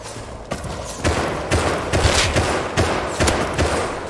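Gunfire from bots in the survival video game Rust, heard as repeated sharp shots in irregular bursts about every half second, fairly loud and close, over a steady background hum with no talking.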